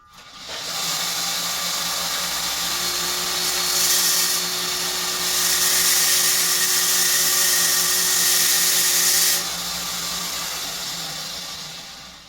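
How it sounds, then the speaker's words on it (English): A screw chucked in a drill is pressed against a bench grinder to shave down its diameter, giving a steady, loud whining grind with a hissy high edge that holds for about nine seconds before tapering off. "Now I just take that and put it up against my grinder just for a second, and it'll grind it and make it a little smaller diameter"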